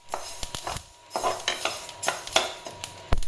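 Mustard seeds dry-roasting in a pan over a very low gas flame, stirred so the seeds scrape and rattle in a run of short irregular bursts, close and moderately loud, with a faint crackle underneath.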